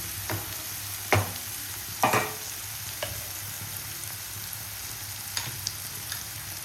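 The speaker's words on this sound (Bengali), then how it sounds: "একটু ভালো করে নেড়ে নেবো। এরপরে একটা করে সব মশলা দিয়ে দেবো।" Spices fry in a pan for chicken pulao under a quiet, continuous sizzle, while a spoon scrapes and knocks against the pan in a handful of separate strokes, with no one talking.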